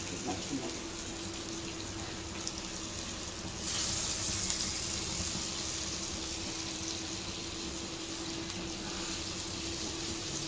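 Squid pieces fry in a pan with a faint, even sizzle and low crackle, heard close but quietly and steadily throughout, with no talking.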